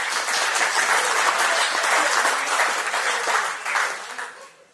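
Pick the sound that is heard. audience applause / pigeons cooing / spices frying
audience applause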